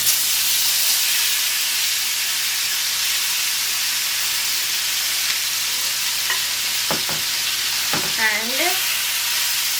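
Shrimp dropped into smoking-hot oil sizzle and hiss loudly and steadily throughout, with a brief voice near the end.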